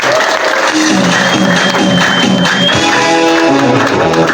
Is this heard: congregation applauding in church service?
yes